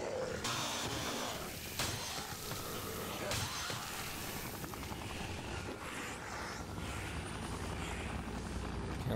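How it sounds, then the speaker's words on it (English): A helicopter in Dead Rising whirs with a steady rotor drone under other game noise, a constant loud wash with no clear breaks. "this helicopter is not doing its job"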